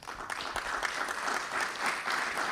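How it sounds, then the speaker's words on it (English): Symposium audience at the Africa Economic Symposium claps in a continuous, moderately quiet round of applause from a sizeable hall, steady throughout with no talk over it. "And can we clap once?"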